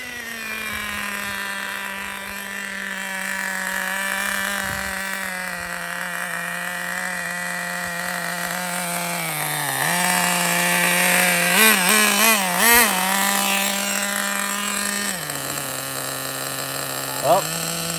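A Traxxas Nitro Rustler RC car's nitro engine screams at full throttle, a loud sustained high-pitched buzz that dips and wavers as the revs shift and bounce, with no voices.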